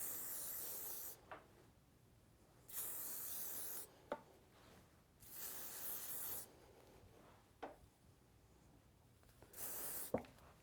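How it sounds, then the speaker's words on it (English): Hairspray sprayed onto hair during vintage wave styling, four separate hissing bursts of roughly one to two seconds each, close and bright, separated by brief quiet gaps with soft brushing sounds. "And then using some hairspray"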